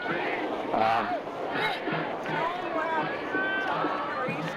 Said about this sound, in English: What was the cheering for just now?